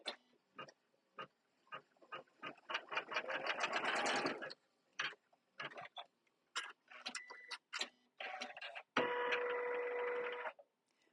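An embroidery machine stitches on a t-shirt in a run of rapid mechanical stitching bursts, some short and some sustained, separated by brief pauses, with no talking.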